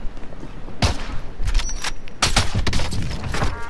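Gunfire in a video game shooter, with several loud, sharp shots and short bursts at irregular intervals over a constant background rumble of game noise.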